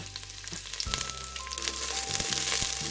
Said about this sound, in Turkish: Ve sarımsağımızı şöyle bir çeviriyoruz.